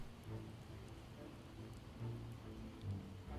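Steady rain falling in the video game Project Zomboid, a soft continuous hiss at low volume with a few faint low rumbles and no speech over it.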